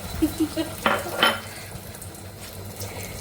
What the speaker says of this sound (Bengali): এই যে এখন ঝুড়ি ঝুড়ি করে দিচ্ছি আর ওর বুদ্ধি এটা ভাজছি আগে বাটার দিয়ে ভেজে নিচ্ছি